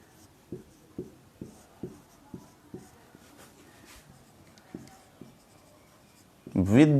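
Writing on a board during a lecture, a regular series of close tapping strokes roughly every half second, with a faint voice at times and a louder voice at the end.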